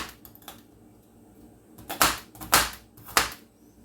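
Knife slicing through a red onion on a cutting board in a home kitchen, three crisp chopping strokes close up after a few faint light taps, no talking.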